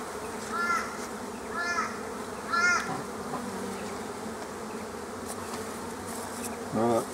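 Honey bees buzz around an open hive as honey supers come off, a steady close hum with a few louder swells as bees fly past near the listener, no speech.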